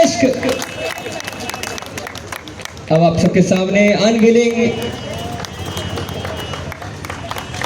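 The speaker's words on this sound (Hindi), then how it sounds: "एक बार जोरदार तालियां आनी चाहिए टीम तनिष्क" Applause for the Tanishq team at the grand opening of the Jammu jewellery store: a dense burst of crowd clapping and cheering rises midway under a loud announcer's voice, with chatter around it.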